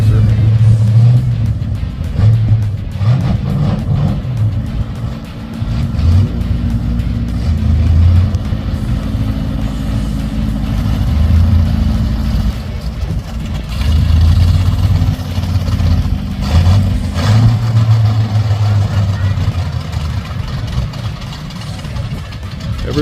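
A classic car, about a 1969 model, drives into a morning car show in Coldwater, Michigan. Its engine idles and rumbles low and steady, passes close by and then fades, with other engines and faint voices behind.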